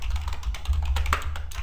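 Quick, steady keystrokes on a computer keyboard as a web address is typed, a run of close clicks ending with a slightly firmer tap on the enter key.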